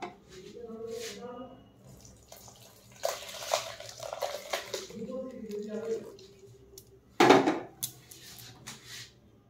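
Curdled milk chhana, split with vinegar for homemade paneer, is poured into a strainer, giving a soft watery trickle and a brief louder splash near the end, with someone speaking over it.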